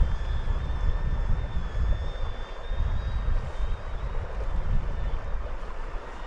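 A DJI Avata drone under motion-controller flight gives off a steady, loud whirring drone from its propellers, holding an even level throughout with a faint high whine running on top.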